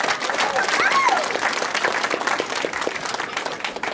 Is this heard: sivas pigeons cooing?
no